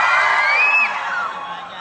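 An audience at a night at Pryzm, Kingston, cheers and whoops for a song, one rising shriek standing out above a loud, continuous crowd roar that eases slightly toward the end.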